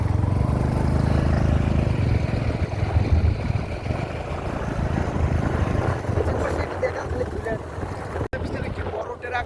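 Motorbike ride near the Teesta Bridge in Gaibandha, a steady loud rumble of engine and wind noise running throughout, with muffled voices under it and a brief dropout near the end.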